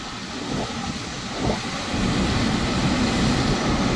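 A large airliner near Mumbai international airport, heard from Kurla as a loud, steady broadband roar that swells slightly and holds throughout, mixed with wind rumble.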